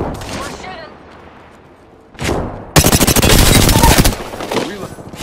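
Apex Legends gunfire: a rapid automatic burst rattles loudly for over a second after a short earlier shot, with a player talking before and around it.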